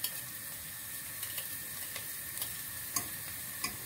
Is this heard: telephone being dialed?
no